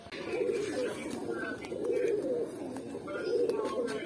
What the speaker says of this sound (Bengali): মাদি কবুতরটা, মাশাআল্লাহ